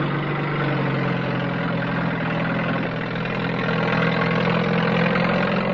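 A lorry or tractor engine runs steadily at idle on a sandy island during preparations for a nuclear weapons test, a continuous low rumbling drone with no breaks.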